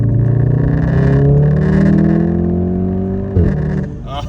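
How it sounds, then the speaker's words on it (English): A Mk7 Golf R engine with a downpipe and Stage 2 tune revs up loudly and close, the exhaust note climbing steadily before a sharp crackle as the DSG gearbox shifts. "It sounds so crisp, and we've got some violent DSG farts."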